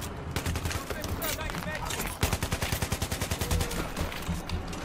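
Rapid automatic gunfire in Battlefield 3 online play, dense bursts of shots loud and close, ending in a crisp rhythmic burst of about a dozen rounds.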